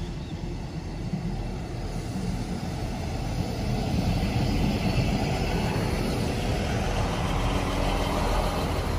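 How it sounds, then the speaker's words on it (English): A passenger train, class 158 unit, rumbles past up close with a steady, heavy low-end roar and a high mechanical whine, holding loud and continuous throughout. "So what's this train? It's 158813, heading for Lincoln."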